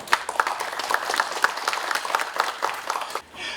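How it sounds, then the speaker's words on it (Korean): Audience applause at an academic presentation introducing a researcher, brisk, dense clapping from a seated crowd, fairly loud and even, cutting off abruptly near the end before resuming faintly. "큰 박수 주시면 감사하겠습니다"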